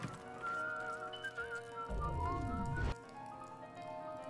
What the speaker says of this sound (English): See, somebody whistling.